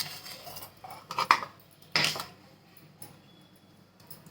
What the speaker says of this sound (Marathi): आता मिक्सरचं पॉड घेते